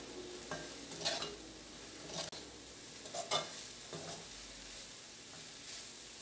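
Chicken masala and coriander leaves stirred in a hot pan, giving a steady low sizzle under a few soft scraping strokes of a spoon, close but quiet.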